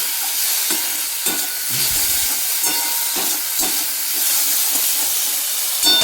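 Potatoes and chillies frying in mustard oil, a loud, continuous close-up sizzle and hiss with a few soft stirring knocks, no talk.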